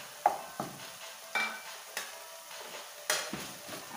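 Tomatoes cook down in seasoning in a pan, giving a soft steady sizzle broken by several sharp scrapes and taps of a utensil stirring against the pan, with no talking.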